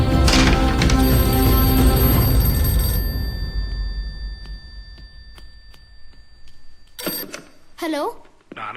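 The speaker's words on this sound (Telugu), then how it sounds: "నాన్న నీకే ఫోన్" A telephone rings with a sustained, tonal bell that starts loud and full under other sound, then thins out and fades. A voice cuts in briefly near the end.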